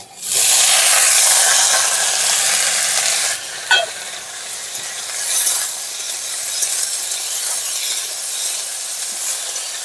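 Chopped potatoes and green chilies sizzle loudly as they go into a hot pan, then settle into a steady frying hiss with scraping stir strokes; no voices.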